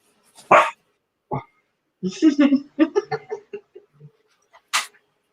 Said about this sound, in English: I hear a dog 2 doors down and started barking